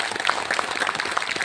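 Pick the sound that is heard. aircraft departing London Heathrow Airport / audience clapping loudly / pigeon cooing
audience clapping loudly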